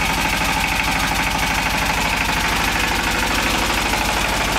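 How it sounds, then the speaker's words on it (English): An S1100 horizontal diesel engine runs steadily inside a sound enclosure with a silencer, giving a loud, even, rapid knocking throb with no pauses. "an S1100 horizontal diesel and put it in an environment where we've managed to get control of the sound."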